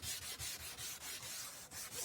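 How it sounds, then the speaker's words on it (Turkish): Rhythmic back-and-forth rubbing of 400-grit sandpaper over a yellowed plastic car headlight lens, steady scraping strokes at close range with brief pauses between passes. "400'lük zımpara ile işlemimizi tamamladık."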